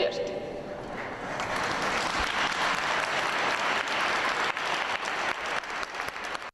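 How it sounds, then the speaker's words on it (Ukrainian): Sustained applause from a large crowd, steady and fairly loud, with some voices mixed under the clapping. "Промова пластун підтримки від української делегації викликає шквал оплесків."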